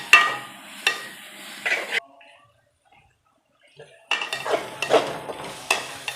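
Pumpkin sautéing in ghee for kaddu halwa, with close scraping and stirring bursts of a utensil against the pan and a soft sizzle, broken by a near-silent pause before the stirring resumes.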